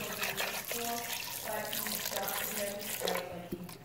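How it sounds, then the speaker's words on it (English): Apple juice splashes and gurgles steadily as it pours over cut pork ribs and onions in a pressure cooker pot, a continuous close liquid stream with faint background noise. "It's going to add a little bit of apple juice."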